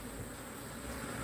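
Honey bees buzz steadily around hive frames being pulled out while splits are prepared, a dense, continuous hum close by with no voices.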